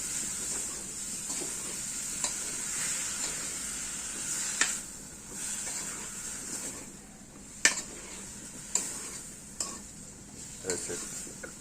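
Bottle gourd and small fish cooking in a pan, a steady hiss of sizzling with scattered knocks and scrapes from a stirring spoon, close and moderately loud, no talk.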